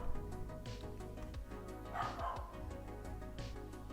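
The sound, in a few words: dog barking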